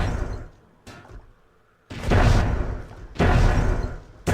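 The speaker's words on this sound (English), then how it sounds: "Maybe with some airstrike assistance." Airstrike blasts in the fantasy strategy game Myth: The Fallen Lords, with heavy booming explosions bursting in twice at close range, each a loud thudding impact followed by a rumbling tail, separated by quieter stretches.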